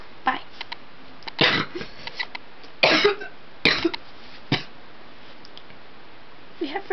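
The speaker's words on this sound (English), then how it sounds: "I'm coughing it up, and it's nasty." A child coughs a few short, harsh coughs that burst out at irregular intervals, close by, with quiet pauses between them.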